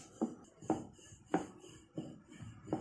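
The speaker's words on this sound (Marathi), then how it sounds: "पहा असे त्याचे आपण काप करून घ्यायचे" Rolled, unoiled flatbread dough is cut into pieces, giving five soft, evenly spaced knife taps against a board, close and quiet with no voices.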